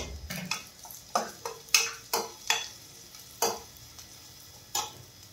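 Finely chopped green chillies frying in a pan, with a soft sizzle under a series of sharp spoon clinks and scrapes against the metal, spaced unevenly.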